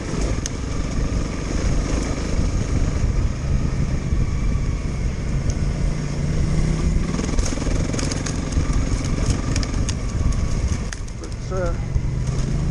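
A Honda CRF 300L motorcycle cruises in 5th gear, its engine a steady, even drone over wind rush for the whole stretch, and a rider talks over it.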